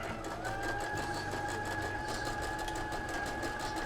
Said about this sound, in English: you're gonna sew this bottom edge together.